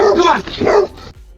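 A dog barks at an approaching bear, played back from a video: a few sharp, close barks and yips in quick succession, with a short whimpering tail at the end.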